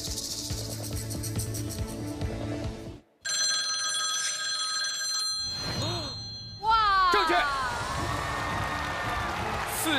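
A mobile phone rings on stage at a televised memory-challenge show, its electronic ringtone sounding in bright tonal bursts, broken by a short silence, then met by loud crowd cheering and whoops over the final ringing.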